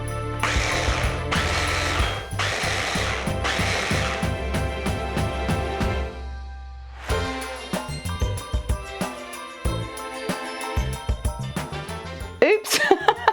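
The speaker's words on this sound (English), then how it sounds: "They're gonna take a little bit longer to whiz up." A blender whizzes chocolate chunks for homemade hot chocolate in loud pulsed bursts, with a steady motor drone between them, followed by scattered knocks and clatter.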